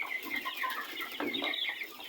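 Noiler and broiler chickens clucking together in a pen, a steady soft chorus of murmuring clucks and short calls at moderate distance.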